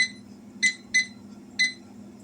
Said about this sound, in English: We'll set this timer.